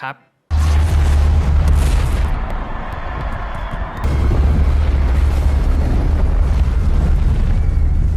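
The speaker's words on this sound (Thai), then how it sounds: "ด้วยการระเบิดสนามอเมริกันฟุตบอล และระเบิดพื้นผิวเมือง" A massive cinematic explosion of an American football stadium and city streets booms and rumbles, followed by a second heavy blast with a long, roaring low-end tail.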